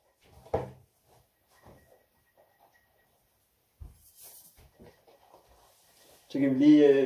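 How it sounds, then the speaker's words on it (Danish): A kitchen door thuds shut near the start, followed by a few quiet knocks and shuffles and then a loud, drawn-out voiced sound at the end. "døren, der lukker sig lige om lidt"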